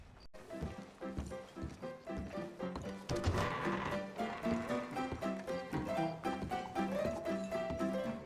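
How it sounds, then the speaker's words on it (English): Horse hooves and a neigh in Red Dead Redemption 2: rhythmic clip-clop of a horse moving over ground under an accompanying musical score, with a whinny, fairly quiet overall. "My horse!"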